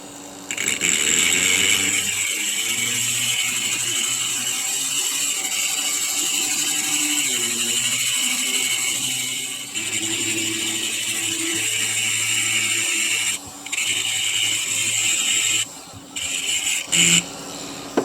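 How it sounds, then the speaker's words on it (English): A small aluminum oxide grinder works steadily on a fossil crab concretion, a continuous whining, buzzing drone with shifting pitch and a few brief dropouts near the end. "I'm going to take this small aluminum oxide grinder and get closer"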